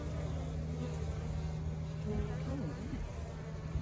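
Honeybees buzz in a hive built inside a couch in Leander, Texas, a close, continuous low drone with no other sounds over it.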